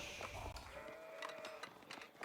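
Sheep bleat in Age of Empires 4, with a single drawn-out bleat mid-clip over a busy bed of game ambience and scattered clicks.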